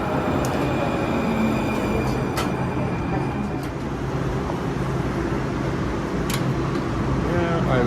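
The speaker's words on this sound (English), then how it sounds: "Excellent tram." Valley Metro light rail tram in Phoenix: a steady, loud rolling rumble with wheel hiss throughout, punctuated by a few short high squeals and clicks, with a voice talking over it.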